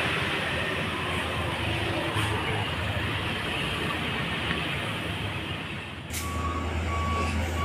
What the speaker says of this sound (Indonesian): Truk Mior mogok saat mau menanjat dan dibantu oleh rekan sesama supir.